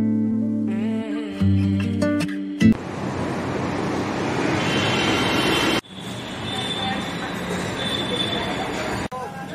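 Crowded Delhi metro train in motion, a steady broadband rumble and rattle of the carriage with a few sharp clunks and jolts, preceded by a brief tonal chime or announcement at the start.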